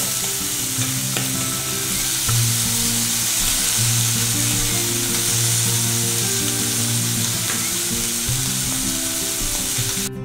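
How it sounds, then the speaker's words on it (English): Scallops sear and brown in a hot pan, giving a loud, steady sizzle of frying that runs unbroken from start to finish with no voices over it. "my scallops are actually cooking rather quickly"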